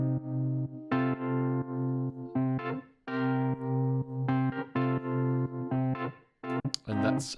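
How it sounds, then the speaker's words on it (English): Organ, a Scarbee 200 contact instrument, playing a chopped rhythmic chord pattern over a drum loop, loud and heavily processed with distortion and chorus, stabs repeating in a steady groove with a brief gap near the end, no voices. "then I jammed out this organ pattern over the top"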